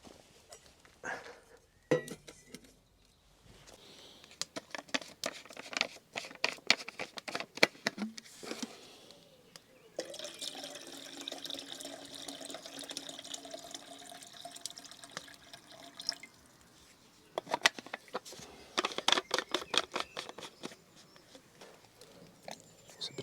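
Potatoes dropped into a billy can of water heating on a camp stove at a basecamp, a series of splashes and watery plops with dripping between them, up close and fairly quiet, with no talk.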